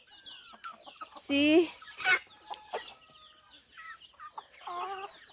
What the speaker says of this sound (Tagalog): All native chicken of my brother here.